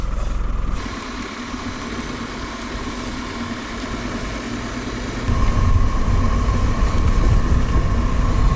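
An old British military truck engine runs in snowy, remote Alaskan winter conditions, a steady, loud, low drone that grows heavier and louder partway through.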